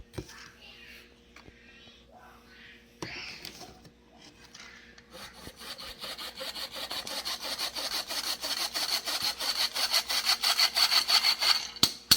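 Flour is sifted through a hand sifter while baking jalapeño cheddar sourdough bread, a steady rhythmic scraping and rasping that starts soft, then grows denser and louder over several seconds, close to the listener.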